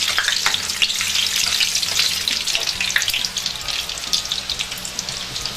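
Nigerian chin-chin dough sizzles and crackles steadily in hot frying oil, a dense continuous fry with bursts of spattering close by.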